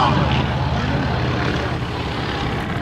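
A 220-horsepower aerobatic propeller airplane rolls at an air show, its engine drone loud and steady, then easing slightly as it passes.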